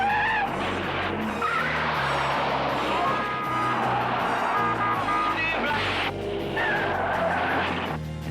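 Race car skidding on an ice track in the alpine setting of the 1969 James Bond film On Her Majesty's Secret Service, with loud continuous tire squeal and revving engine, backed by an orchestral score.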